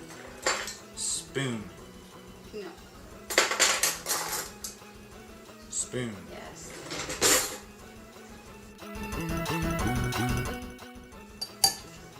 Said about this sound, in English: Now we are supposed to beat the butter, sugar, and vanilla extract in a large mixing bowl until creamy.